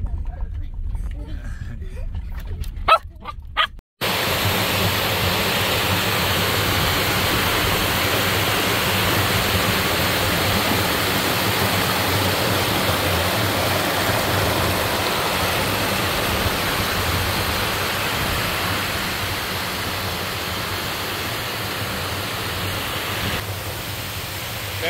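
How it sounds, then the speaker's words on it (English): Water flows steadily beside rice fields, a loud, even rushing wash that starts abruptly after a few seconds of quieter, broken sound and then holds constant. "Enjoy the view, enjoy the noises from the water"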